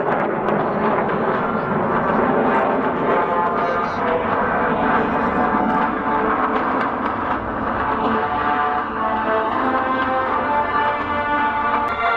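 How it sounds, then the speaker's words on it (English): Military jets roar overhead during an attack demonstration at the Iwakuni Friendship Day air show, a loud sustained engine rumble and whine that stays steady throughout with faint announcer talk underneath. "目標上空へ到達した航空機が攻撃を開始します。"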